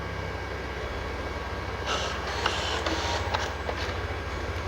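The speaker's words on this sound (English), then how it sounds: "You can hear the electric motors moving" Faint whirring of small BMW N62 Valvetronic electric motors runs in short bursts over a steady low hum, quiet and mechanical, with no voices.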